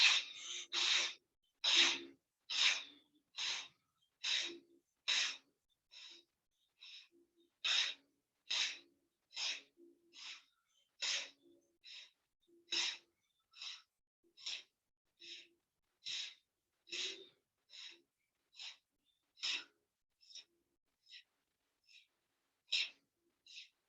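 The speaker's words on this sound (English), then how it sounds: "inhale and exhale continuously with a medium phase of awareness" Rhythmic yogic breathing with continuous, equal inhalation and exhalation, about thirty forceful, evenly spaced nasal breaths close to the microphone, each a short airy rush separated by brief silences.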